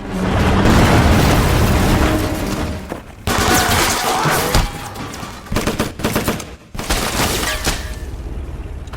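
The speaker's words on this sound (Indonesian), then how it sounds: "Ia pun meledakkan tank tersebut dengan menembaki seluruh tentara yang ada di dalamnya." Tank explosion and heavy gunfire in a war film, with booming blasts and rapid bursts of shooting filling the scene loudly and almost continuously, with brief pauses between volleys.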